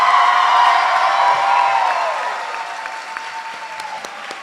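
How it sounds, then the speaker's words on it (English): A graduating class at a spring nurse pinning ceremony draws sustained audience applause with some cheering and whoops, loud and steady at first, then easing to a lighter patter. "Give another round of applause."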